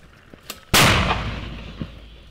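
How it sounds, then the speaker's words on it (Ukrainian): One loud, sharp boom of a mortar firing, close by, followed by a long rumbling decay, with faint knocks before and after. "Увага! Постріл!"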